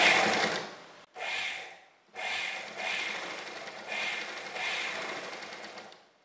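A sewing machine stitches the neck of a kurti in several bursts of whirring, separated by short pauses as the needle stops to turn a corner. The sound is close and moderately loud.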